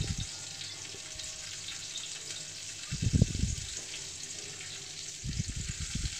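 Chopped onion fries in white oil in a frying pan, giving a constant close hiss broken by two short bursts of stirring clatter.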